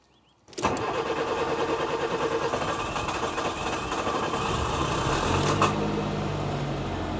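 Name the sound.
Nissan Micra K11 car engine cranking and starting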